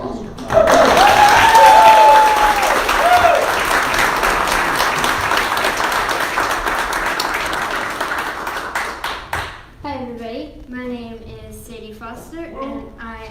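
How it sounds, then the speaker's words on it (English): An audience gives a presenter a loud, sustained round of applause that swells quickly and holds steady for about nine seconds. The clapping then fades as a voice begins speaking. "let's give the best round of applause we've had yet to a presenter for Sadie Foster"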